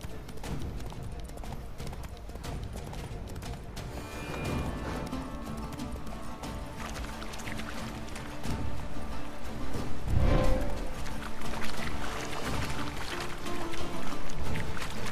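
Clip-clop of Roach the horse's hooves in The Witcher 3: Blood and Wine, a steady running gait under game music and ambience, with someone talking and the sound growing louder toward the end.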